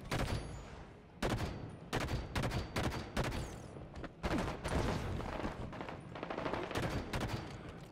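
Rapid gunfire from Halo 5 SWAT multiplayer crackles in dense, loud bursts of shots that go on almost without pause, with no talking.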